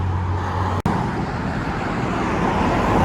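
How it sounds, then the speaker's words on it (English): A truck towing a scrap metal trailer passes on a road at St Mary's, Sydney, Australia, a loud continuous rumble of engine and tyres with a brief dropout near the start. "Got another McCube scrap metal trailer just here."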